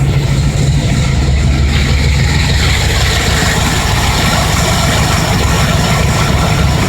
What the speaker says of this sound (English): She's holding an idle.